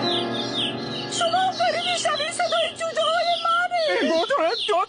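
Several high, quick chick chirps and tweets overlap in an animated story, rising and falling in bursts over a faint hum, with a busier flurry of cheeping near the end.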